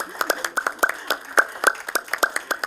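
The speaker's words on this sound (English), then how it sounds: "We're clapping for you." A small group claps during an online live stream, scattered individual hand claps ringing out in an uneven rhythm, close and fairly crisp, with little speech underneath.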